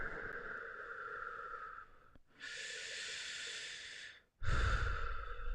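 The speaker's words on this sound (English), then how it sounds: "just relax and take a few deep breaths in this space" Slow, deep breathing during a relaxation meditation: one long exhale, then a fuller breath and a strong rushing inhale, close and clear with no talk.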